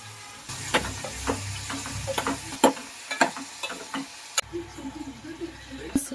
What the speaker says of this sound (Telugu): ఈ పుట్టగొడుగు ముక్కల్ని ఆయిల్లో వేసుకోవాలండి